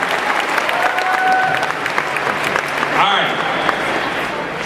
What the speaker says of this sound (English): if we all put our hands together and clap